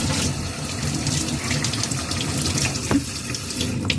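Hot tap water running steadily over paint brushes being rinsed of acrylic paint in a sink, a loud, continuous splashing rush with small shifts as the brushes move under the stream.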